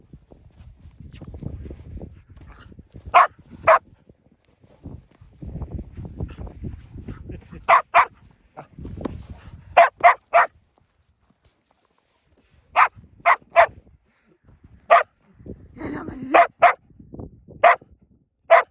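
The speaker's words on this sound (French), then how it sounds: "Arrête d'aboyer, il y a tous les chiens qui te regardent." Sharp, repeated dog barks in short bursts and pairs, loud and close, outdoors in snow, alternating with stretches of low rumbling noise and a brief spoken line.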